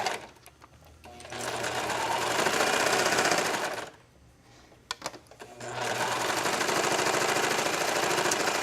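A serger stitching knit fabric for a tank top, two bursts of fast, loud whirring separated by a short pause with small clicks, close up.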